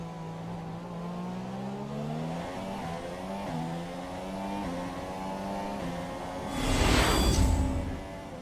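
Formula 1 cars racing in the F1 2017 video game, a steady high engine whine with shifting revs, and another car swelling loudly near the end as it passes close by.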